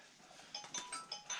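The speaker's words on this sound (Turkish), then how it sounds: "Telefon geldi." A mobile phone rings in a village house, a short repeating electronic chime of two or three bright tones, faint and somewhat distant over quiet background.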